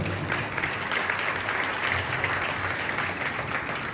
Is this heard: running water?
no